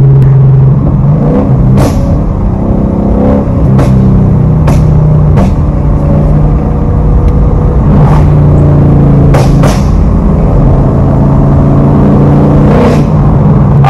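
A Ford Mustang GT with a ProCharger and burble tune exhaust, a loud continuous engine drone with sharp pops and crackles scattered throughout.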